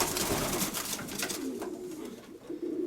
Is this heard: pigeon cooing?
yes